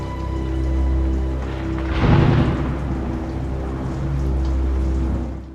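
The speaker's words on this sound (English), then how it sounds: "the rain is creeping me out" Steady rain falls in a scene from the 2000 TV drama Angel, a continuous wash of patter with a deep rumble of thunder swelling midway.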